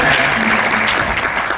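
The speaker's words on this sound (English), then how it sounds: "Let's give them a round of applause." An audience applauding at a speaker series event, dense steady clapping filling the room from start to finish, loud and close.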